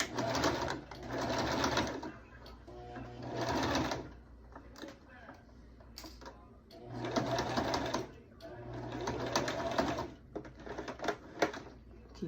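A sewing machine runs a straight stitch around a car seat cover in several bursts of rapid needle clatter separated by short pauses, with a voice talking through the gaps and over the stitching.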